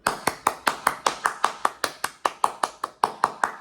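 Close, crisp hand claps in a quick, even stream of eighth-note triplets, around sixteen claps in under four seconds with no talking.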